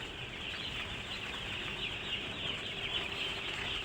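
Chickens and young chicks cluck steadily on a Filipino farm, a dense continuous flock chatter indoors in a dim house, fairly close and constant with no talking.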